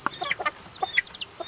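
Several chickens cluck in quick, uneven bursts close by as they head into their coop, with a rooster among them, short sharp calls overlapping for a moment.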